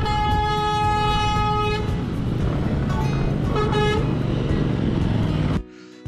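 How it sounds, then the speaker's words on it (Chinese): A large tour bus honks repeatedly at cars on a mixed-traffic road, one long loud horn blast followed by several shorter ones, heard close over steady engine and road rumble. "这台大客车不知道什么原因一直对我们按喇叭"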